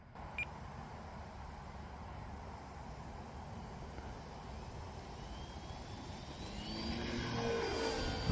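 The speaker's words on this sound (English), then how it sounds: "we are ready to go here with flight number 2 of the 1450mm P51 Mustang from FMS" An FMS 1450mm P-51D Mustang RC airplane takes off, its electric motor holding a steady whine that swells in pitch and loudness toward the end as the throttle comes up, heard outdoors without talk.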